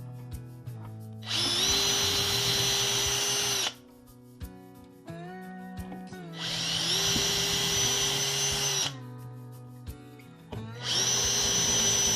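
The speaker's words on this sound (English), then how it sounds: "we'll run our drills and our holes and our screws down here" A power drill drives exterior screws into a wooden crate in three long whirring bursts, close and loud, separated by brief pauses with small handling knocks.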